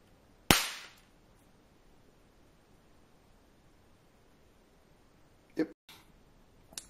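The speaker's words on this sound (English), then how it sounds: "After 10 test shots with high power, full power." A homemade plasma-driven cannon wrist watch fires once with a sharp, loud crack followed by a brief hiss, then a quieter pair of pops near the end.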